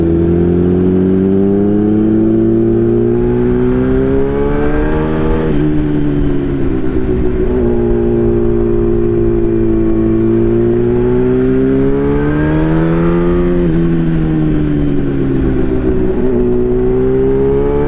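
A motorcycle engine revs through a gutted TOS quad tailpipe muffler, loud and close, its throaty tone rising and falling in long, repeated swells with no voices.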